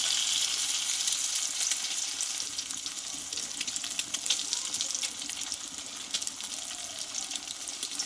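A halved egg fries in hot oil in a pan, cooked on one side first to keep the yolk intact. A steady, dense sizzle and crackle holds evenly throughout with no pauses.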